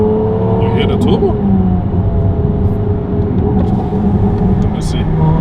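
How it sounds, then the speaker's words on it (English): Ferrari 296 GTB fitted with a Novitec exhaust, a loud, close, continuous engine drone with a steady turbo whir, with brief higher hissing bursts. "You hear the turbo?"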